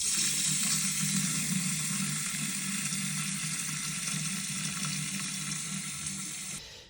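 Heating desludging product forced from a pressurized canister into a central heating system's water, a steady loud hissing rush with a low gurgling undertone that holds evenly and then cuts off abruptly near the end.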